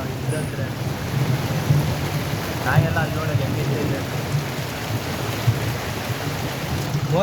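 Dense, steady downpour of heavy rain with thunder rumbling low beneath it during flooding in Bengaluru, continuous throughout, and a faint voice briefly rising above the noise.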